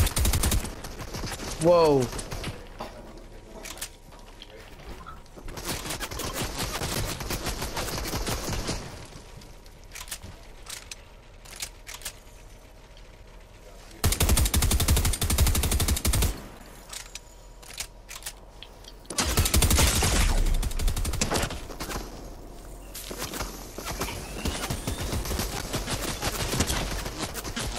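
Gunfire in Fortnite, including a Mythic DMR, bursts out in loud, dense rapid volleys separated by quieter stretches, with a brief exclamation from a player.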